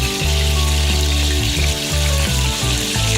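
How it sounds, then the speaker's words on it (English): Frozen fish fries in a smoking-hot pan with a loud, steady sizzle that fills the whole stretch, over a humming tonal backdrop. "Once the pan is smoking, you can now fry your fish and let it fry for about 10 minutes each side"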